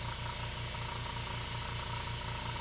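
An airbrush sprays paint in small dots, giving a steady, fairly loud airy hiss with a faint rhythmic pulsing low underneath, and no voices.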